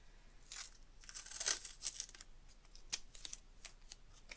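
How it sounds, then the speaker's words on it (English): Masking tape being cut into pieces, faint close crinkling and tearing sounds with sharp snipping scrapes, quiet and irregular, no speech. "So I'm going to cut a few pieces of masking tape."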